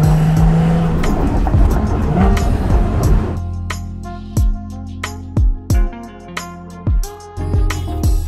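A Porsche 981 Boxster GTS drives in sport mode, engine note loud and continuous, then rising and falling in sharp bursts of revving and gear changes with crackles as it accelerates.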